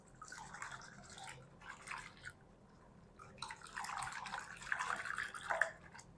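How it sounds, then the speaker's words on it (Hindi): Water trickles and splashes in short bursts into a bowl of flour batter, soft and close, with brief pauses between pours. "अब हम इसके अंदर आधा कप पानी और डाल देंगे"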